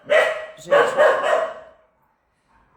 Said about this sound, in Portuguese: Tem um cachorro latindo na rua.